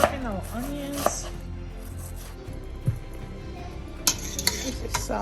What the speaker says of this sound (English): And we're chopping our onions.